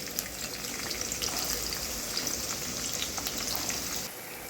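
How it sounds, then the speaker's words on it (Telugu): Onions dropped into hot oil give a steady, close broadband sizzle that holds for about four seconds and then drops off sharply near the end, with no voices. "ఆయిల్ కాగింది ఉల్లిపాయలు వేస్తాను"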